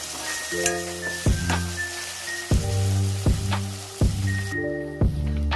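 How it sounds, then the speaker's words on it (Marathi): Ginger, garlic and chili paste sizzles steadily as it is sautéed in a pan for a chicken dish, with recurring sharp clicks of stirring over the continuous frying hiss. "आलं लसूण आणि मिरचीची पेस्ट आपण टाकलेली आहे। सगळं व्यवस्थित परतून घ्यायचं आहे।"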